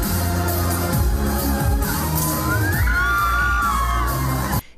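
A studio audience at a Chinese television music show cheers and yells without letup during a martial arts performance, a loud, dense roar of voices with a few rising whoops, ending abruptly.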